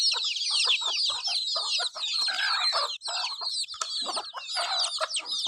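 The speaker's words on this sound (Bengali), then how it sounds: "আমাদের হাঁস মুরগিগুলো" Ducks and chickens clucking and calling close by in a dense, busy chorus of overlapping squawks and clucks, with no one speaking.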